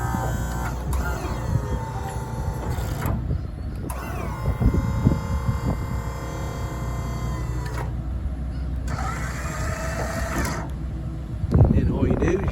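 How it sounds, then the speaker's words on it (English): Winch on a 2012 Ford F-550 V-10 gas crane service truck paying out, a steady motor whine with pitch shifts and hydraulic hum, starting and stopping in stretches while someone talks over it. "And here's your winch. Of course, it goes out."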